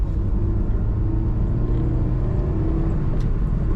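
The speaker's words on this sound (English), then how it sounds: "Good acceleration from this car." A 2001 Honda S2000 convertible with a six-speed manual accelerates, heard from inside as a steady low engine rumble with a faint rising tone and road noise underneath, continuous with no talking.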